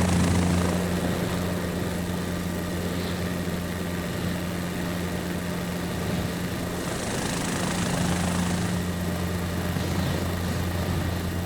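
Main rotor of a helicopter in Flight Simulator 2024, heard from outside the aircraft: a steady, droning whir with a low hum that keeps up throughout, swelling slightly partway through.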